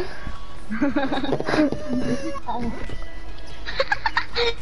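A person imitates a chicken with clucking, squawking vocal sounds, loud and close, mixed with other voices and laughter in a noisy room.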